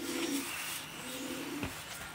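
Racing pigeons in a loft coo softly, with a couple of low, drawn-out coos and a brief flutter partway through, fairly close and alone without speech.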